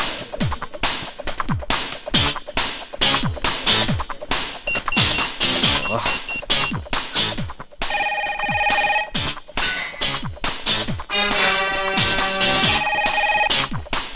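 A telephone rings repeatedly in a movie scene, a bright electronic ringtone over a busy, percussive music score.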